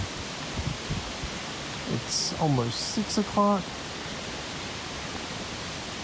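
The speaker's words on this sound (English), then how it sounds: "So we're getting a little bit of those gusts now." Gusty wind ahead of Hurricane Helene sweeps through a garden in steady broadband rushing, with someone speaking briefly partway through over the windy background.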